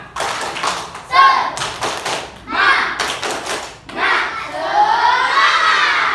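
Schoolchildren perform a rhythmic spirit clap, bursts of unison clapping and thumps broken by short pauses, with loud shouting and chanting voices joining in between the claps.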